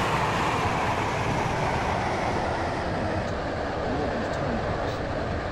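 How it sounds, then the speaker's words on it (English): Steady, loud rumble of a three-coach train running on rails as it approaches a station, broadband noise holding constant throughout with no pauses. "This train is now approaching Whitney Green."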